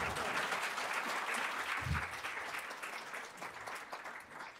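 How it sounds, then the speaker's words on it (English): A conference crowd at Code4Lib 2023 applauds a list of people being recognised, sustained clapping throughout that holds fairly even and fades slightly toward the close, heard at a modest level. "We're going to give them lots of applause."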